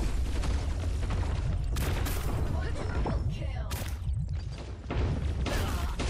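Small bombs in the T3 Arena shooter game burst in quick succession, making sharp thumping blasts among gunfire-like clatter, with a voice talking over the action.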